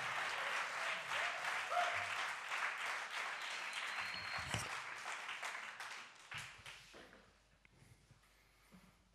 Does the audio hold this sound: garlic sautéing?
no